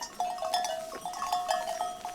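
A herd of goats out on pasture with a shepherd, their thin bleating calls repeating irregularly at moderate distance over a faint steady background.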